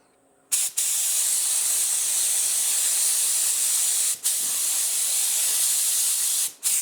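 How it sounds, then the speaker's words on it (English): Paint spray gun at high air pressure laying a second coat on a Harley motorcycle during a custom paint repair, a loud steady hiss in three long bursts with brief gaps between them. "We're going to put the second coat on with a lot more air pressure."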